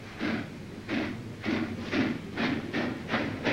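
A train engine hauling passenger cars along a track, its rhythmic clickety-clack repeating about every half second, loud and steady with a hissing wash underneath.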